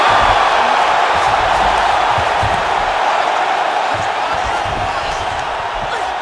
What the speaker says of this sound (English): you heard the crowd pop after that grueling crowd battle